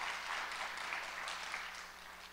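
A crowd at a neighbourhood concert applauds the band, its steady, fairly distant clapping gradually fading toward the end.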